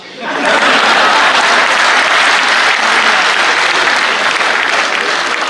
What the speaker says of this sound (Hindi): बात आप तक पहुंचे तो आपकी तालियां मुझे बताएं बात आप तक पहुंच गई है